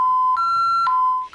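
A home security alarm blares with a loud, steady electronic tone that shifts pitch twice, sounding continuously and alone.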